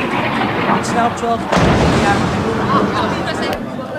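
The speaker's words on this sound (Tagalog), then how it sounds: "Mas malalakas ang pagsabog kumpara nito mga nakaraan" Loud, continuous rumbling blasts from FA-50PH airstrikes on Marawi City, with a sharp burst near the middle, booming explosions mixed with a murmur of distant voices.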